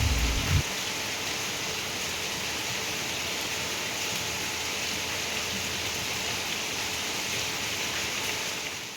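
Heavy rain falls outside, a dense, steady hiss of drops on surfaces running throughout after a brief low thump at the start.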